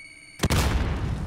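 A frag grenade going off in a video game: after a brief quiet tone comes one sudden loud blast that settles into a dense, sustained roar.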